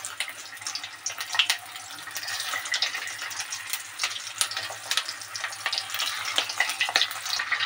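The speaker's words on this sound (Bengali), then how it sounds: "এবারে আমি কড়াতে তেল দিয়ে ভাজবো" Stuffed kakrol gourds fry in hot oil in a wok with a steady, close sizzle and scattered pops and crackles throughout.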